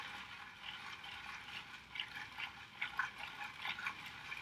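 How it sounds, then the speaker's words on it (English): Water swirls and pours out of a bowl of dirt in a hands-on science lesson, a faint, close trickling and sloshing with small irregular splashes. "So the water is coming out of the bowl"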